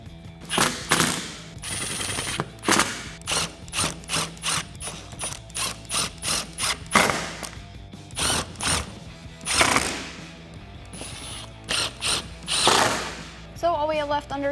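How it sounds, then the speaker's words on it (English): Ratchet wrench clicking in quick repeated bursts while bolts are tightened during a Cervini's C-Series grille install on a 2018 Mustang GT, close and loud, with short pauses between runs of clicks. "I'm just gonna get the two main bolts in for now"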